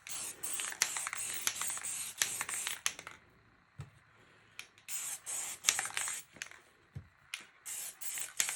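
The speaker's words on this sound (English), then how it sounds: "Test sprays." Spray paint test sprays onto card stock: long, loud hissing bursts with brief gaps, a quiet pause with a couple of soft knocks, then more hissing bursts in quick succession.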